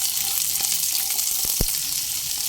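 Chopped onions and dried chillies fry in oil with a constant, fairly loud sizzle, broken by a couple of brief clacks from a utensil.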